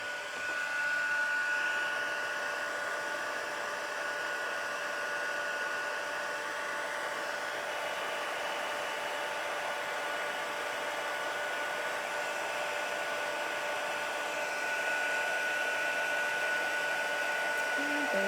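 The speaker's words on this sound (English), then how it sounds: "So now we're going to emboss this one and that one." Heat embossing tool blowing hot air in a steady, continuous whir with a faint whine, close and even in level throughout with no talking.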